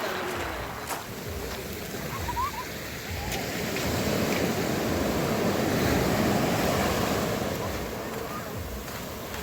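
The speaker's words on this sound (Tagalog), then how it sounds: "Sarap maglakad sa Dalampasigan ng dagat" Sea waves wash over a stony pebble beach at Dipaculao, Aurora, a continuous broad rushing surf that swells and recedes, with wind buffeting the microphone.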